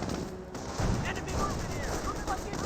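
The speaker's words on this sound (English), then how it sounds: "some shots there into the hay barrel" Gunfire from a Company of Heroes real-time strategy battle, with riflemen, a Jeep and Panzer Grenadiers fighting: a dense stream of shots and crackling small-arms fire runs throughout at steady loudness, with faint voice sounds mixed in.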